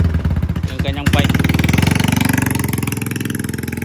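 A Suzuki Smash motorcycle fitted with a Tsukigi power pipe exhaust idles close by in a rapid, even popping pulse after a brief rev, loud and steady throughout.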